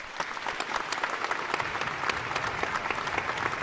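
Sustained applause from an audience honoring Colonel VP Singh, dense and steady clapping with a few sharper claps standing out, filling the space without any voice over it.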